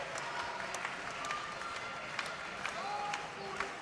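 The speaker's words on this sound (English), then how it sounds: "gives the chance to get a bit of a slow hand clap going to support the German team" In a handball arena in Düsseldorf, a crowd at a Germany v Hungary match keeps up a faint, distant, slow, evenly spaced rhythmic handclap beneath a low murmur of crowd noise.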